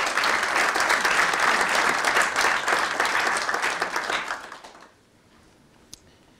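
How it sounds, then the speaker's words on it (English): A room full of people at a town's state of the town address gives a sustained round of applause for town employees, dense clapping that holds steady for several seconds before tapering off into quiet. "Let's give them a round of applause."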